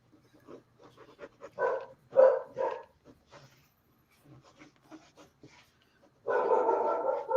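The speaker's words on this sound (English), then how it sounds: "So that's somebody's walking by bark." A dog inside a house barks at people walking by outside, giving a run of short, uneven woofs and huffs close to the listener. A denser burst of barking comes near the end, and no human speech is heard.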